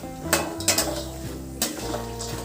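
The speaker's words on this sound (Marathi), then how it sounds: "मी शेंगदाण्यासोबत हे पण डाळवं पण छान परतून घेऊयात" Peanuts and roasted chana dal tossed in a pan for a crunchy snack, with sharp metallic clinks and scraping of a spoon against the pan over a low, steady frying hum, close up and without talk.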